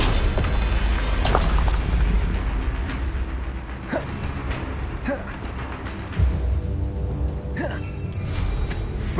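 Confringo blasting spells go off in Hogwarts Legacy, with several heavy booms and sharp bursts spread through a steady rumble of combat noise, loud and close, alongside occasional voices.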